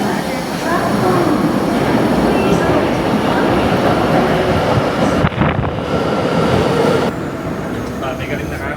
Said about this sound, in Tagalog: The local train bound for Shinjuku is arriving at platform.